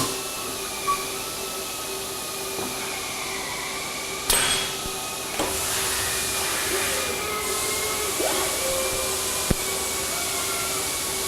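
An automation robot tends a lathe in a machine shop, producing a steady mechanical whine and hum with a sustained tone, punctuated by occasional clunks and a sharp metallic knock near the end.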